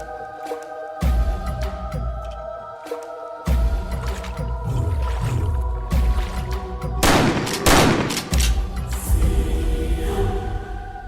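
Gunshots fire at a crocodile in a Sundarbans horror tale: a run of sharp, loud reports, some single and some in quick clusters, over a low droning background.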